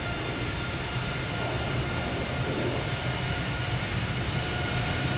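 A United Boeing 787 departing produces a steady, fairly faint engine rumble heard from a distance, continuous and even with no voices.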